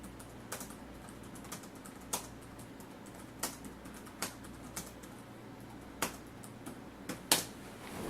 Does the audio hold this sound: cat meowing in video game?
no